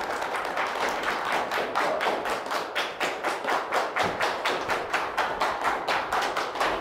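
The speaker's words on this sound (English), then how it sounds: "Y'all start clapping till the CEO come out" A group of people clapping in a steady, even rhythm, the claps loud and close, continuing without pause and with no talking over them.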